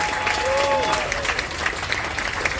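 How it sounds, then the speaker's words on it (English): An audience on a cruise ship applauds the three panelists of a game show, giving steady, dense clapping that fills the room, with a brief whistle near the start and faint voices underneath. "audience, can I have a big round of applause for our three panelists?"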